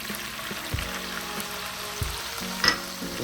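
Dried crayfish frying in hot oil for Nigerian vegetable soup, a steady soft sizzle with a few stirring clinks and scrapes, close and moderately quiet throughout.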